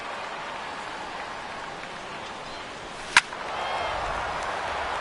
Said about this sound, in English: Troy Tulowitzki steps in here to lead off the 6th as the rain continues to fall here.